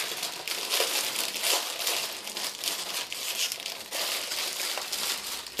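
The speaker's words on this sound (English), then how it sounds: "Ignore the crinkling sound. I'm sure it's very irritating to listen to." Plastic packaging crinkles and crackles steadily while the collector's edition of Grand Theft Auto V is unboxed. The noise is continuous and close, with no talking.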